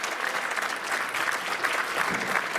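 Steady applause from a crowd, many hands clapping densely and evenly throughout, moderately loud with no pauses.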